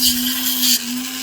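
Dremel rotary tool shaping the edges of a rough opal picture stone, a steady high whine with a bright grinding hiss that shifts pitch slightly partway through, close and loud with no talking.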